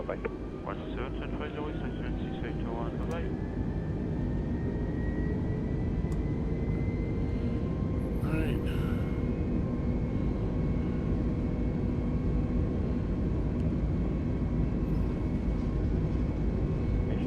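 Airbus A320neo jet engines roar steadily during the takeoff roll on a delivery flight out of Hamburg, a loud broadband rumble heard from the cockpit, with brief tonal whines early and cockpit voices over it.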